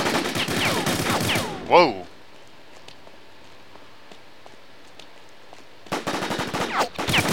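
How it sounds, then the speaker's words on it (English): Sporadic, faint sniper rifle shots crack in the distance in The War Z, a survival shooter, spaced out across a quiet stretch between bursts of a man's close, excited talk. "I keep hearing a sniper rifle, and that makes me nervous"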